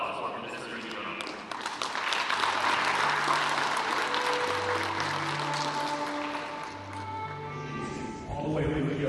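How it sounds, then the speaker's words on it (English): An audience at a panel event applauds Minister Yudhoyono with a broad wash of clapping that swells and slowly fades, while low tonal hums and a voice come through beneath it toward the end. "How about another round of applause for Minister Yudhoyono?"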